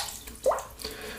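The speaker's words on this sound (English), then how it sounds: "just drip a bit of water onto the face of the brush" Water drips from a tap onto the face of a shaving brush above a soap bowl, one short close splashy drip over faint running-water background.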